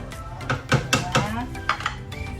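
Ground meat with carrots and bell pepper stirred in a metal pan, a run of sharp utensil clinks and scrapes in uneven rhythm, close and fairly loud, with a voice speaking over part of it.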